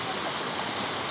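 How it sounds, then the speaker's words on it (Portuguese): Steady broadband rush of water from the Caladão waterfall near Coronel Fabriciano, Minas Gerais, tumbling over pebbly rocks, a continuous even roar heard alone at moderate level. "Cachoeira"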